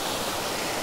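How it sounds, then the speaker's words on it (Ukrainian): Steady, dense rushing of a four-metre waterfall in Zakarpattia, Ukraine, close and unbroken, a constant broadband roar with no voices. "От він водоспад!"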